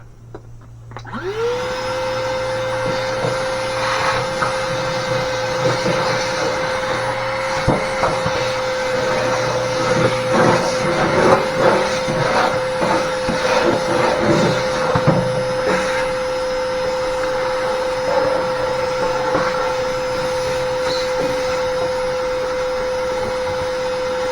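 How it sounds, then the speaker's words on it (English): A vacuum cleaner whines loudly and steadily at close range, with rattling and scraping as the nozzle moves around inside a metal barbecue smoker with the dome removed. "now we just vacuum the inside of it out."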